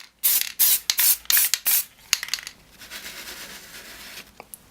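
Spray paint hisses from a can onto a small prop key, about five short loud bursts in a quick rhythm, then quieter scraping and handling sounds as the spraying stops.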